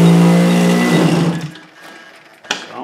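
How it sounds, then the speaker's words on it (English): Gas or nitro RC engine cranked over with the ignition off to prime it, a short whirring mechanical churn up close that dies away after about a second and a half, followed by a faint click. "I'm just turning it over now to"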